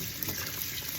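Cold tap water runs steadily into a sink or pot while asparagus is blanched in a kitchen, a continuous soft trickling wash that stays even throughout.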